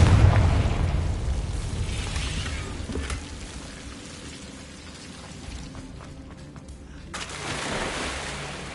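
A Confringo blast spell goes off in the Hogwarts Legacy game: a broad, rumbling burst that swells and then fades into a washy, noisy tail, heard without any talking.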